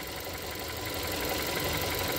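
A car engine idles in a steady, even drone during fuel pressure sensor testing, with a dense mechanical rattle that builds slightly toward the end and no speech.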